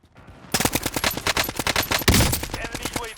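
Rapid bursts of AN-94 automatic rifle fire in Call of Duty: Warzone, loud and close, with a sharper heavier shot near the end.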